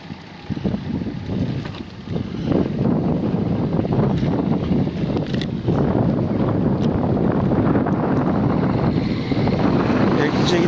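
Strong wind buffets the microphone continuously on a ride out from Eriklice village, a loud rushing roar that barely lets up throughout.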